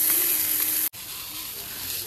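Maggi noodles frying with egg and onion in a pan, a loud close sizzle that cuts off abruptly partway, then resumes as a softer, steadier hiss.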